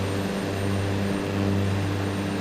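Steady aircraft engine drone from a plane on landing approach in Microsoft Flight Simulator, a loud continuous hum with steady tonal bands and power building slightly, alone without speech.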